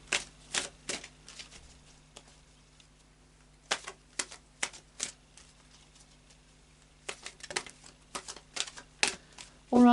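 Tarot cards riffled and shuffled by hand in short clustered bursts of crisp flicking, separated by quiet pauses, close and fairly soft.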